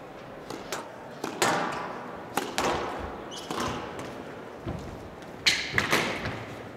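Squash ball struck with a racket at a men's professional tournament, sharp thuds and taps scattered through the rally, with crowd noise underneath.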